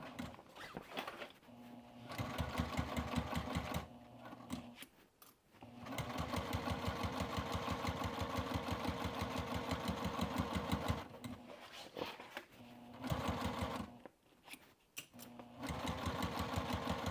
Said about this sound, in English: So just go slow over that corner there and sew an eighth inch from this folded edge.